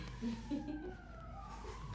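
A police siren passes outside an interview room, its wailing tone sliding slowly up and down at moderate distance, steady throughout with a low background rumble and no clear speech.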